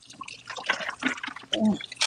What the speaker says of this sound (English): Try to run the water in here.